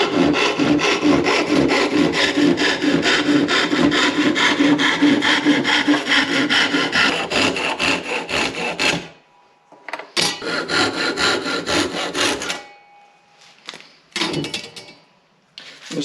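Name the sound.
sawing out clamp pieces held in a vise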